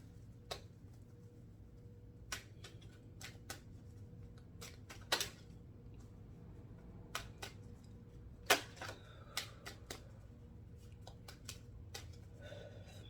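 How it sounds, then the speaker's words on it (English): Tarot cards are shuffled by hand in a quiet room, giving a scattered series of sharp snaps and riffles at irregular intervals over a low, faint background hum. "I gotta shuffle these good."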